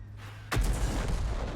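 A Crusader 5.5-inch self-propelled gun in a war video game fires a single heavy shell with one sudden, deep, booming blast that rolls on briefly after a quieter lead-in, loud and close with no talk.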